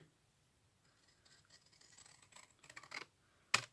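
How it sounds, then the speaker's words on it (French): Large scissors cutting paper at a slight angle: a few soft, scraping snips that build in loudness, ending in one sharp, crisp closing snip, with no talking. "Donc, on découpe bien là. Là, on découpe un chouïa en biais."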